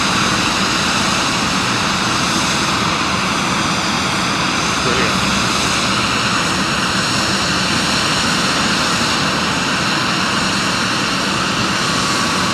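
A former British Airways aeroplane, delivered in 1989 and now a cargo aircraft at East Midlands Airport, roars with loud continuous jet engine noise that fills the scene, with voices talking underneath.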